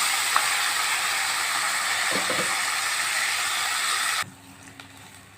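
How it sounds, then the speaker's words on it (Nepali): Masoor dal and rice stirred together dry in a pan, roasting for khichdi, produce a steady broad hiss and scraping that runs loud and continuous, then drops off abruptly near the end to a quieter background. "दाल र चामल मैले एकैसाथमा भुटेको"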